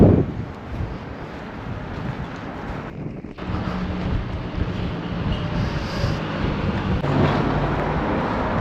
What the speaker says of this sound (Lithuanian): Šiandien vėjuota.